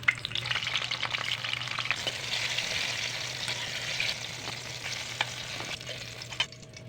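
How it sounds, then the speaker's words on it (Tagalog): Sliced eggplant frying in hot oil in a pan, a steady broadband sizzle running throughout with light crackles and faint stirring, ending abruptly near the close. "Unahin natin prituhin ang talong."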